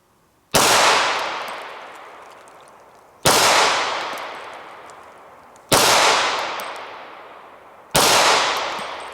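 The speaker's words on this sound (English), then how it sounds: "So I'll shoot a 5-shot sequence here up on the right circle." Four sharp, loud pistol shots from a S&W M&P 40, evenly spaced about two seconds apart, each with a long ringing decay, fired in sequence at a target with no talking.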